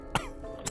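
A narrator voices a pony's coughing, imitating it with two short throaty coughs spaced apart, close and fairly quiet.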